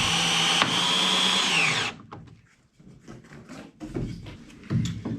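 A power drill whines loudly for about two seconds as it backs lag screws out of clamp boards on a 1973 Aquasport 222 boat under restoration, then stops, leaving quieter clattering and handling noises.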